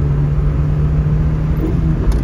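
A 1992 Nissan Hikari Turbo EGI accelerates with a loud, steady engine drone and low rumble heard from inside the car, with no talking.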